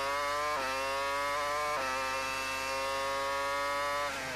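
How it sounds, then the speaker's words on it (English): Formula 1 car engine at the 2002 Canadian Grand Prix, heard onboard as a loud, high-pitched continuous scream that climbs through the revs, with sharp drops at gear changes and a brief lift near the end. "You can hear how hard the engine works around this circuit."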